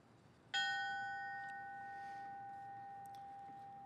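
A memorial bell at a fallen firefighter ceremony for IAFF 209 in Edmonton, Alberta, is struck once, clear and close, and its bright tone rings on in a long, slowly fading decay with no talking.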